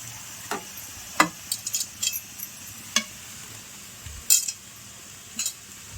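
Capsicum stirred into browned onions frying in a pan for pav bhaji, giving a soft steady sizzle broken by scattered sharp clinks and scrapes of a utensil against the pan.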